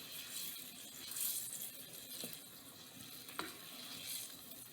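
Chicken marsala sauce being stirred in a pan, a soft continuous sizzle and bubbling with faint scraping and a couple of light clinks of the utensil against the pan.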